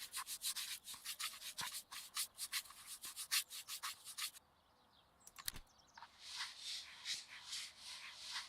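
An object being sanded and polished in a cozy restoration video game, heard as quick rhythmic rubbing strokes up close, a short pause, then softer, gentler rubbing, with no talking.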